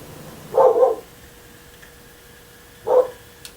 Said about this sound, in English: they always like to start barking as soon as I start recording